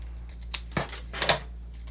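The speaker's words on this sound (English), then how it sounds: "So I'm gonna go ahead and cut that eye out" Scissors cutting an eye shape out of folded paper: a few short, crisp snips spaced irregularly, close and fairly quiet, with no talking.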